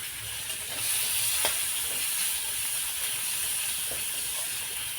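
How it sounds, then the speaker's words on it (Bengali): Onion, green chili and a little garlic frying in a pan, giving a steady, even sizzle with a bright hiss that carries on unbroken from start to finish. "অল্প করে রসুন আর পেঁয়াজ কাঁচা লঙ্কা দিয়ে একটু ভেজে"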